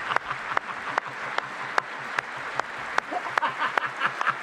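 A single pair of hands claps slowly and steadily, sharp isolated claps spaced evenly over a faint background hiss.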